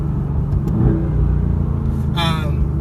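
A 2018 Mercedes-AMG GT R engine rumbles close by, rising into a rev near the end, with a deep steady low-end throb throughout.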